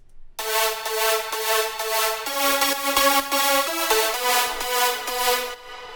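A layered Nexus 2 synth lead for a house drop plays a bright, harmonically rich melody alone, with sustained notes shifting pitch every half-second or so in a steady rhythm, loud and close throughout.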